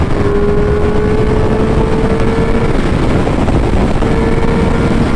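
A Triumph Speed Triple 1200 RS three-cylinder motorcycle engine accelerates, droning loud and steady under heavy wind rush, with a sustained tone that rises slightly.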